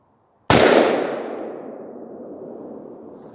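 One sharp, loud AR-15 rifle shot cracks after a brief silence, then a long echoing decay rolls away outdoors.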